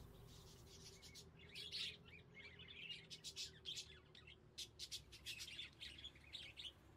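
Birds in the Exotica Pet Shop Simulator video game chirp and tweet in quick, repeated bursts over a steady low background hum, fairly faint and continuous throughout.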